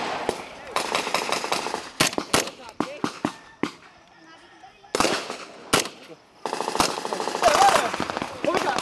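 Gunfire cracks during a joint U.S. Army military exercise in the Philippines. Sharp bursts of machine-gun and rifle fire come in clusters, loud and close, with a brief lull in the middle, and voices can be heard around the shots.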